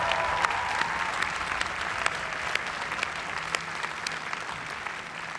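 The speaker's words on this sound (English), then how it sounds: "let's have a round of applause for them too" Steady applause from a commencement audience for the graduates' families, a dense continuous clatter of clapping that holds at an even level throughout with no talking.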